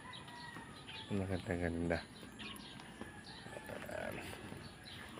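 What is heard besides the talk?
gamecocks (fighting roosters) clucking and crowing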